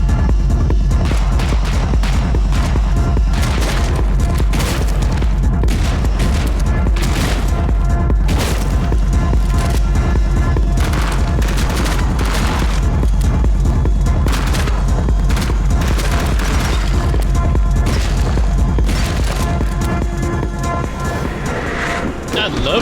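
Rapid, relentless shotgun fire from a video game runs the whole stretch, dense booming blasts layered over game noise with a voice talking over it.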